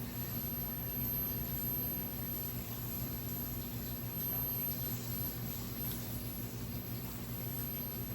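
Axial SCX24 Deadbolt RC crawler with a tiny brushless motor creeping slowly over rough ground, a steady, thin electric whine and hum running unbroken for the whole stretch at a constant moderate level.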